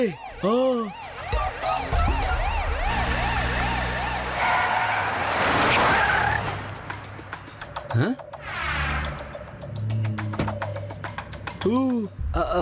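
Cartoon ambulance siren wailing in rising and falling sweeps, loud and close, with a second siren burst later on, under animated character voices and playful sound effects.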